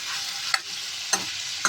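Mushrooms hiss and sizzle in hot oil, a steady close frying sound broken by three sharp scrapes of stirring.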